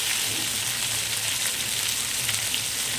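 Taro and eggplant pieces frying in oil in a pan, giving a steady, close, even sizzle and crackle that holds at the same level throughout with no voice over it.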